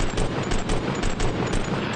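Rapid automatic gunfire from Fortnite's in-game weapons rattles in dense, loud bursts, a continuous volley of closely spaced shots with no voices over it.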